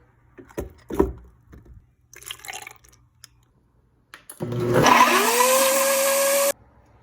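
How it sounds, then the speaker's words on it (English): A few clicks and knocks of ingredients dropping in, then a blender motor whirs up loudly making a strawberry kiwi smoothie and runs steadily for two seconds before cutting off. "now I will go ahead and put all these ingredients into my blender one by one"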